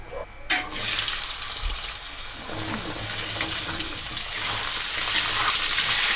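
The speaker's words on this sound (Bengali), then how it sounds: "আলুটা একদম লাল করে না একটু হালকা ভাজা ভাজা করে নেব" Cut potatoes dropped into hot oil already fried with black cumin, a loud, steady broadband sizzle starting with a sharp burst and continuing close and unbroken throughout.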